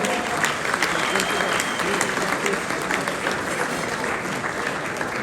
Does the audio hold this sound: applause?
yes